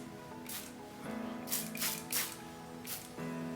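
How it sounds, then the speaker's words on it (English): Several short hissing sprays of Lysol disinfectant from a non-aerosol pump bottle onto a well-used N95 mask, about five quick bursts at uneven intervals over a faint steady hum. "spray the mask, which is well used"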